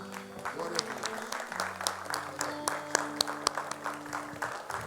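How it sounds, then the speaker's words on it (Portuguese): A church congregation claps steadily during a worship service, a moderate patter of many hands over sustained keyboard tones, with no voices heard. "Vamos aplaudir ao Senhor."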